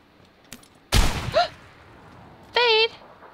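AKM rifle fire in a video game: one short, sharp burst of shots, preceded by a faint click, with brief voice sounds afterward.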